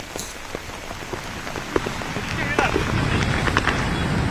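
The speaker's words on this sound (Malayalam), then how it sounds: "അല്പസമയം മുമ്പാണ് ശക്തമായ മഴ വീണ്ടും തിരുവനന്തപുരത്ത് ആരംഭിച്ചിരിക്കുന്നത്" Heavy rain pours at Shankhumukham in Thiruvananthapuram, a steady broadband hiss of drops striking surfaces, close and fairly loud, with scattered sharper splashes and a faint voice beneath.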